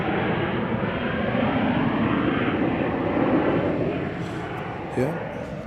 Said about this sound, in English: There's our dear MD-11 making its way slowly